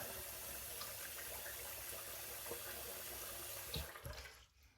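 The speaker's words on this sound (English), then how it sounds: "I'm going to run a little cold water." Cold water runs from a tap into a sink in a steady gushing stream, close and continuous, then cuts off abruptly near the end.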